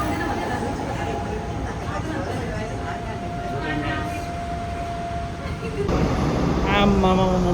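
Train noise at a station, a steady rumble with a long tonal whine, then louder hissing and squealing as the train moves or brakes toward the end, while people chat over it.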